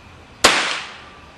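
An oxygen and acetylene powered BB gun fires one sharp, loud bang close by, followed by a ringing tail that fades over about a second.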